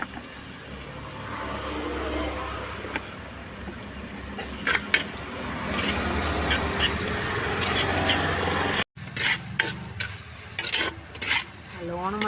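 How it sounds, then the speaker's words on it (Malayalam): Ginger and curry leaves sauté in a pan for a Kerala chicken curry with a continuous loud sizzle and scraping stir strokes, then a brief cut and more crackling, clattering stirring. "കുറച്ച് ഇഞ്ചി പിന്നെ കറിവേപ്പില നന്നായി വരട്ടിയെടുക്കാം"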